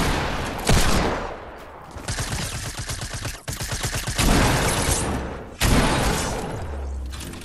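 Loud, close bursts of rapid automatic gunfire in the Fortnite video game, several volleys separated by short gaps and sharp impacts, with no talking.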